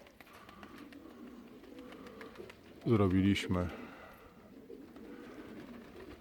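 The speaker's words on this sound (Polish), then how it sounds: "Jeszcze dołączają gołębie." Pigeons coo at an evening loft as the flock joins in, with one close, loud burst of cooing standing out midway over quiet background and a brief spoken word.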